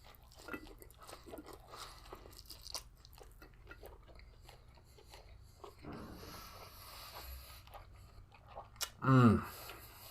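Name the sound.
biting into an Italian beef sandwich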